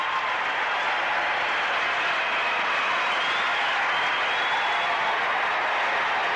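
A basketball arena crowd at a Georgetown versus Connecticut overtime game roars and applauds in a dense, sustained wall of cheering and clapping that stays loud throughout.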